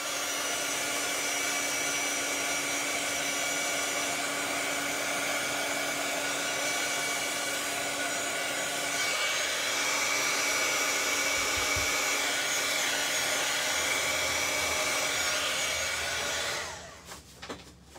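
A hair dryer runs steadily, drying alcohol marker ink on vellum: a constant close whirring blow that holds for most of the stretch and then cuts off near the end, with no talk.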